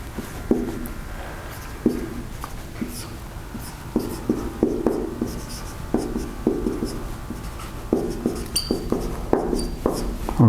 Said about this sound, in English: Let me write this a little bigger then.